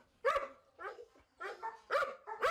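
Romanian street dogs barking in a shelter: four or five sharp barks from one or two dogs at moderate distance, spaced in quick irregular bursts over a quiet background.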